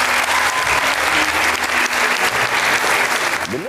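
A studio audience on a Tunisian television programme applauds for a singer: loud, dense, sustained clapping with no voices over it, tapering slightly at the very end.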